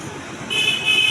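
Traffic at a bus stand where buses leave for Bardhaman and Bankura, heard from an overbridge: a short burst of road noise with a thin horn toot cutting in halfway through.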